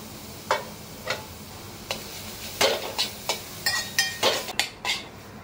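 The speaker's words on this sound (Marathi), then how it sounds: "हे जे मी ग्रेट करून ठेवलं आहे नूडल्सच्या शेपमध्ये त्याला असं सगळं सॉटे करून घेईन" Grated zucchini noodles sautéed in butter in a pan give a soft sizzle under repeated utensil clinks and scrapes against the pan, a dozen or so sharp taps spaced irregularly, louder in the second half.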